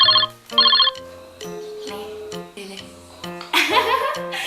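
An outgoing video call rings on a phone, a loud electronic tune of short repeating tones in a bouncing pattern, with a brief burst of laughter near the end.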